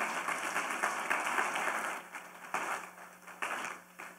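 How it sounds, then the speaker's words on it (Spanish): A church congregation claps in applause after a sermon, a dense, close burst of many hands that comes in uneven waves and fades, with no speech over it. "Dale un fuerte aplauso al Señor Jesús."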